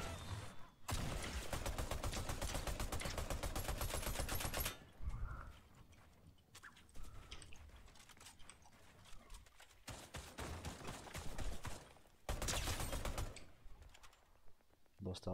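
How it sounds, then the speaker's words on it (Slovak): Gunfire in a video game comes in loud rapid bursts of automatic fire separated by quieter gaps, with a player talking during the lulls. "Tak to po nás strieľa."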